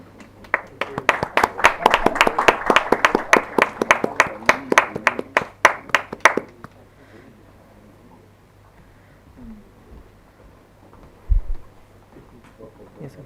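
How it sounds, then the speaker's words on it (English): An audience at an event breaks into a burst of clapping that lasts about six seconds, dense and fairly close, then fades to a quiet room with faint stray sounds. "A big round of applause for Dr. Govind Paratkar sir."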